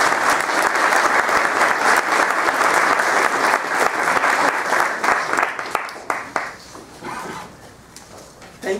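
An audience claps in sustained applause to welcome speakers at a debate event. The clapping is dense and steady for about six seconds, then thins out into scattered claps and fades.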